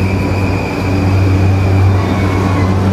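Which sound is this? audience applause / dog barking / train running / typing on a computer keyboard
train running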